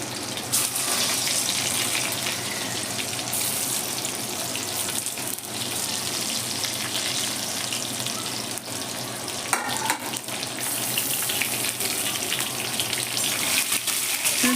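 Stuffed brinjals fry in hot oil with curry leaves and asafoetida, giving a loud, continuous sizzle and crackle that stays steady and close throughout, with no voices.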